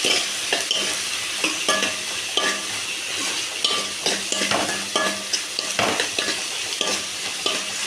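Onion, tomato, coconut, dried chili, garlic and tamarind are stirred in a frying pan, with steady sizzling under repeated scraping strokes of a spoon against the pan, close and fairly loud with no talking.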